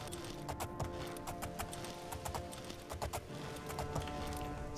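Horse hooves clip-clop steadily in The Elder Scrolls IV: Oblivion, a quick continuous run of sharp, close hoofbeats over a constant background ambience, with no talking.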